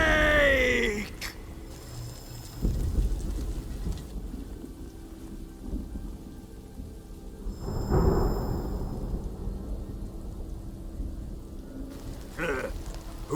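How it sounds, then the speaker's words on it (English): Thunder rumbles through a rainy night in the stealth action game Metal Gear Solid Delta: Snake Eater, a broad low roll swelling around the middle over steady rain hiss, with a few brief game sounds at the start and near the end. "Who's afraid of a little thunder?"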